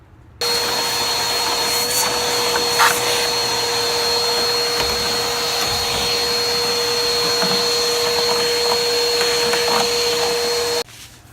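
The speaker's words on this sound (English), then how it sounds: "We want to make sure we go ahead and vacuum all of that out." A vacuum cleaner whines steadily at close range with a constant high-pitched motor hum, switching on and off, with occasional rattling as it sucks dust out of a Healthway air purifier.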